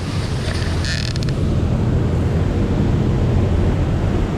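A tour boat is underway on a New Zealand fjord in heavy rain, giving a loud, steady rumble of engine and rushing water mixed with wind buffeting the microphone and a brief creak early on.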